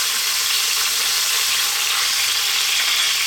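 Thin garlic chicken seasoned with black pepper, tossed in a pan over medium heat, gives a loud, even, continuous sizzle with no talking.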